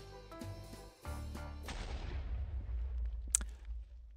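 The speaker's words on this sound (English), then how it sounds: "Yep, he is exploding a little bit early." A TNT block explodes in Minecraft on a tree farm, a sudden booming blast around a second in that rolls into a long rumbling decay with a brief crack near the end, preceded by quieter game sounds.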